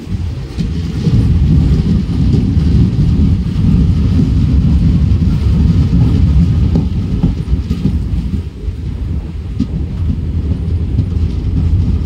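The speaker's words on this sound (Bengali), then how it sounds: "আমাদের ট্রেন এখন ফালাকাটা স্টেশনে ঢুকছে" Steady low rumble of the Teesta Torsa Express pulling into Falakata station at dawn, heard from inside a carriage, loud and continuous with faint rhythmic clatter, no voices.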